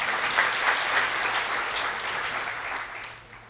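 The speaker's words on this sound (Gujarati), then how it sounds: "એને તાળીઓથી વધાવીએ" An audience at a motivational talk applauds warmly, a dense continuous patter of many hands that holds steady and then tapers off toward the end, with no speech over it.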